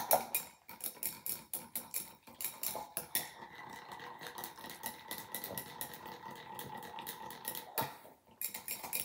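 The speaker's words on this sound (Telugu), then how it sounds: "సో ఎల్లో ఇలా బీట్ చేసుకున్నాను యోక్ని." Egg yolks being whisked with powdered sugar in a bowl, making rapid rhythmic clicking and scraping strokes close by, steady throughout with a few brief pauses.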